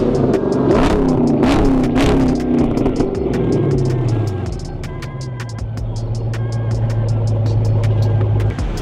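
A Chrysler 300 SRT8 fitted with a full Flowmaster exhaust revs hard close by, a loud throaty engine note rising and falling before settling into a deep steady idle rumble.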